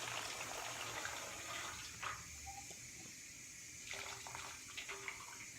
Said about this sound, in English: stir or drain off the juices from the